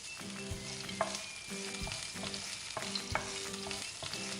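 Crushed ginger and garlic sauté in hot oil over a low flame, a continuous quiet sizzle broken by rhythmic scraping strokes of a spatula stirring in the pan, heard close with no talking.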